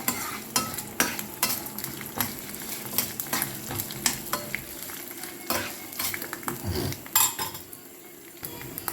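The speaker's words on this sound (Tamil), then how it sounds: "ஸோ இப்போது வேர்க்கடலை, எள்ளு, பூண்டு எல்லாம் போட்டு வதக்கிடணும்." Peanuts, sesame seeds, garlic and green and dried chillies sautéing in a pan for pirandai chutney, with repeated scraping stir strokes and clinks of a utensil over a soft sizzle, close and moderately loud.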